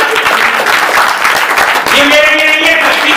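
Audience applause fills a religious sermon hall on a martyrdom-day observance, a dense, steady wash of many hands clapping throughout, with a voice and some tonal sound rising over it near the end.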